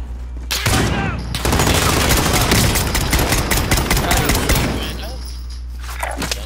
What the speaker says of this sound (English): I'm trying to lay down suppressing fire